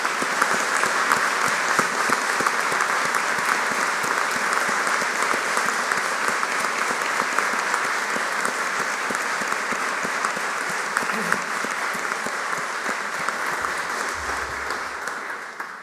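Audience at a lawyers' swearing-in ceremony before the Supreme Court applauding, a dense, steady wash of many hands clapping throughout, heard alone and from a moderate distance.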